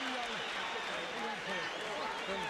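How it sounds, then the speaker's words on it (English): An arena crowd at the Holyfield vs. Foreman heavyweight title fight cheers for George Foreman, a distant, muffled roar of voices with scattered applause, and speech mixed in over the crowd. "The last cheer for Foreman."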